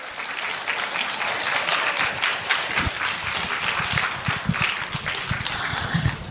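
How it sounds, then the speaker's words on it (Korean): Sustained audience applause at a Korean elementary school women principals' association summer training conference, dense steady clapping filling the room throughout without pause. "우리 최영순 교장 선생님께 큰 박수 보내주셔야 됩니다."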